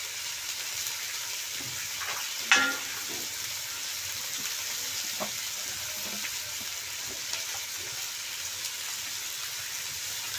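Boiled chickpeas and peas fry with salt and turmeric in a pan, giving a steady, moderate sizzle, with a sharp utensil knock near the start and softer stirring taps scattered through the hiss.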